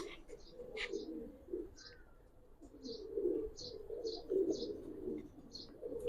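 Giribaz pigeons in a loft cooing softly and repeatedly, with low murmuring coos and a few higher chirps nearby, moderately close, along with faint background sound.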